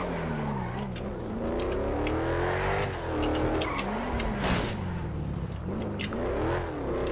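A car engine in the FiveM driving game, revving up and down with gear shifts and brief tire squeal, steady and close throughout with no talk.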